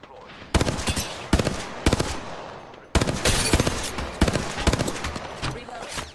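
Loud bursts of automatic gunfire in a video game come in several sharp volleys separated by brief pauses, close and punchy, with faint voices in the background.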